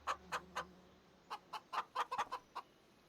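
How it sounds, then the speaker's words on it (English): Chickens cluck in Farming Simulator 25, a dozen or so short, faint clucks in an uneven rhythm, with nobody talking. "Chickens."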